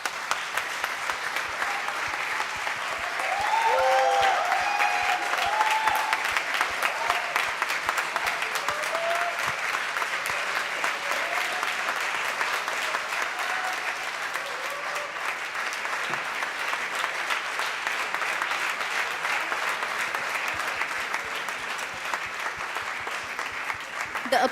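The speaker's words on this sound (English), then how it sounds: "The applause speaks it all, Khushali." Sustained audience applause at a valedictory function for the 22nd Justa Causa 2025, a long, even wash of many hands clapping with a faint voice over it early on.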